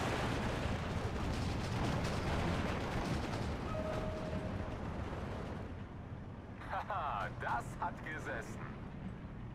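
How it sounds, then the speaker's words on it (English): AA guns firing at infantry in the game Steel Division 2: dense, continuous rapid bursts and booms that dominate for several seconds, then ease off into a quieter battle backdrop with distant pops. "AA guns are just having fun here, picking off all the infantry"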